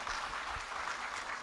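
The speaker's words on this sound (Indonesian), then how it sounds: "Tepuk tangan dong." Brief burst of audience applause at a Buddhist talk show, a soft, even patter of many hands heard from a distance, short and steady.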